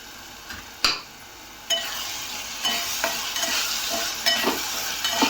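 Onion and garlic fry in oil with coriander powder and dried fenugreek leaves for a chickpea curry, a hissing sizzle swelling after a few sharp spoon knocks, then steady stirring close by.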